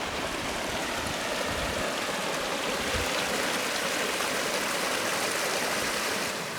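A mountain stream along the Colorado Trail in the San Juans rushes steadily and loudly close by, a dense, unbroken wash of flowing water.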